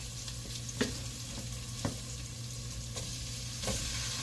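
Pork pieces go into a pot for Filipino nilagang baboy, giving a steady low sizzle and bubbling, with a few soft sharp knocks of a utensil on the pot scattered through.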